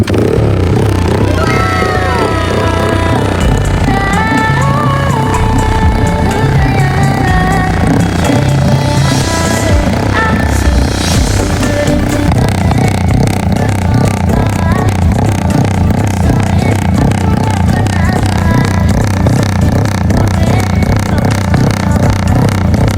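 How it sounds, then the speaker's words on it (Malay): A dirty parked motorcycle idles while its engine warms up, a loud steady close-up chugging with clattering mechanical rattle throughout and brief rises in pitch, with no voices over it. "Kita panas enjin dulu lah."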